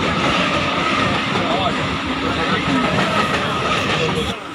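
A train rumbles and clatters steadily at a busy railway station, loud and continuous, with a faint voice in the background.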